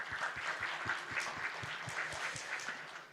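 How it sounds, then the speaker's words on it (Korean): A church congregation applauding during a Sunday service, dense sustained clapping from a large crowd at a fairly even level, heard from some distance in a reverberant hall. "우리 그 하나님께 영광 감사의 박수 한번 올릴까요?"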